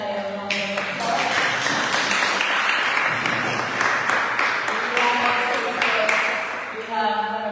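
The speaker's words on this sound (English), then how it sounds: "let us give Shania a round of applause" Steady, dense audience applause fills a community youth empowerment seminar at a church faith center, sustained throughout with no break, with faint voices and tonal sounds near the start and end.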